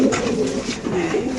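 Racer pigeons coo close by, a short continuous run of low throaty rolling calls overlapping one another without any voices.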